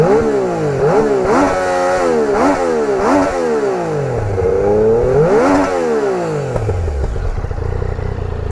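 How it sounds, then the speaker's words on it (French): A Yamaha Niken three-wheeled motorcycle with its stock exhaust revs repeatedly close by, the engine note rising and falling in several smooth blips before settling back to a steady idle, fairly mellow rather than shrill. "c'est de l'échappement d'origine, hein, donc bon comme d'habitude c'est pas très criard"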